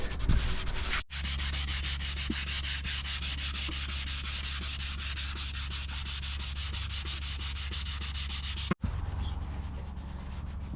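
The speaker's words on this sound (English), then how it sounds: "Just going to give it a rub with a wet rag just to lift all the little bits of wood." A wet rag rubs steadily over freshly sanded teak on a 30-year-old sailing yacht, making a continuous, close scrubbing noise with a brief pause near the start and another near the end.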